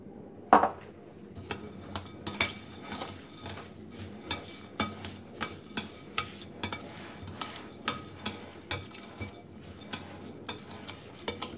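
Orange blossom water and sugar are stirred together in a bowl with a spoon, giving a run of sharp, regular clinks and scrapes that come close and clear, with no talk over them.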